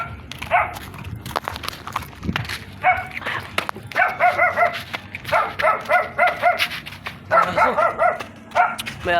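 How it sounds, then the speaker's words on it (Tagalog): A dog barks repeatedly in short rhythmic bursts, fairly close, with brief pauses between volleys and faint movement in the background. "May aso."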